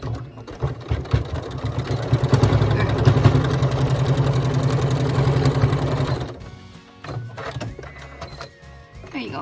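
A sewing machine runs stitches across a bright fabric scarf near a snap attachment, a close mechanical whirring rattle that starts, speeds up for several seconds, then stops, followed by quieter handling clicks.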